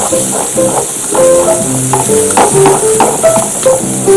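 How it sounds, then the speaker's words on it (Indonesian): Green chili and garlic frying in olive oil while being stirred, a steady sizzle with soft clinks and scrapes of the spatula, fairly close and continuous. "Ini juga cabai hijau yang sama digoreng juga dengan bawang putih dan olive oil."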